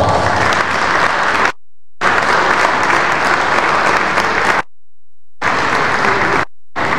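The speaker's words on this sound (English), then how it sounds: "please give them an NBA round of applause." Loud, dense applause from a large audience at a Nigerian Bar Association event honouring candidates, a sustained roar of clapping broken by abrupt silent gaps.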